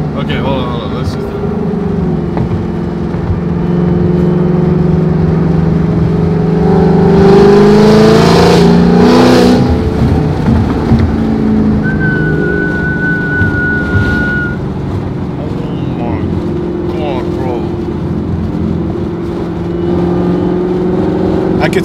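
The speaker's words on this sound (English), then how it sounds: "the moment you give it throttle, I don't hear the whine anymore" A Chevrolet Camaro ZL1 with a 750HP package accelerating on the road, its engine heard from inside the car as a loud steady roar swelling midway, with a faint supercharger whine and someone talking over it.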